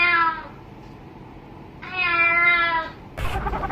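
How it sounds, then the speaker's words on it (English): A cat meows twice, drawn-out tonal cries with clear harmonics over steady background hiss, then a short noisy thump at the end. "Cat playing."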